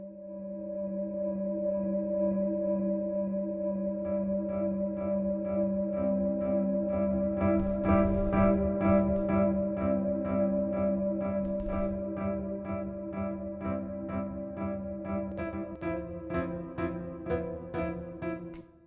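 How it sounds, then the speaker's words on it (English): A soft synth bell pad rings out in layered, sustained tones with gentle shimmering chimes, steady and spacious throughout. "It's just a bell pad, right? So it's kind of a padded out bell."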